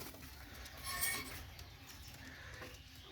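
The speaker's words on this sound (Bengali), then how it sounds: "এই যে আর এক সেট টেডি কবুতর আছে" Teddy pigeons, a pair of Pakistani pigeons, coo softly and faintly, with a few low murmuring calls and a brief brighter flutter of sound near the middle against quiet background noise.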